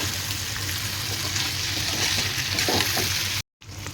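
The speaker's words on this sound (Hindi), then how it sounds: "तो थोड़ा फ्राई करेगा हम, मसाला को थोड़ा फ्राई करेगा" Chicken curry masala with potatoes, Assamese style, frying in a pan, a steady close sizzle with stirring scrapes, cut by a brief silent gap near the end.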